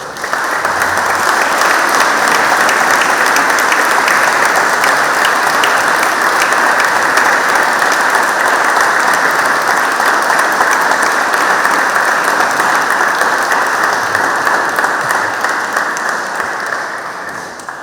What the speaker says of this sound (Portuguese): Obrigado, Grupo Coral da Horta. Aplausos a eles.